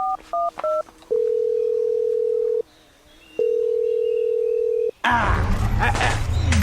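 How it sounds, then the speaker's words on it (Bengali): Several quick telephone keypad beeps, then two long steady ringback tones, followed by a sudden burst of loud, busy sound. "আমি ফোন দিচ্ছি দাঁড়াও দাঁড়াও দাঁড়াও"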